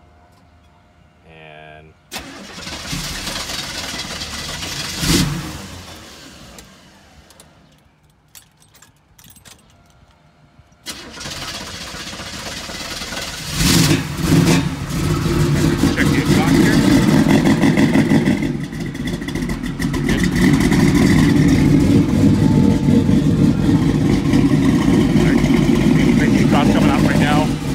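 1969 Chevrolet El Camino: keys jangle, a brief starter crank, then the engine catches and settles into a loud, steady idle with occasional revs, a short spoken word early on.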